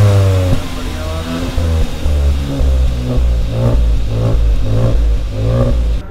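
A Hyundai Venue N Line engine revs repeatedly, heard from outside the vehicle, loud rising and falling bursts over a steady idle rumble.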